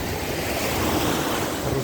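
Sea surf at the crowded Vidrada beach in Odesa on a warm summer day, a steady broadband wash of waves with wind noise, close and loud throughout.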